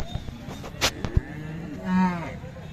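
A Khillar cow moos once at a Sunday cattle market in Mudalagi, Belagavi, Karnataka. The low, drawn-out call rises near the end over a background of faint clatter and market noise.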